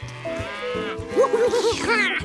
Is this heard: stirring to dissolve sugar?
no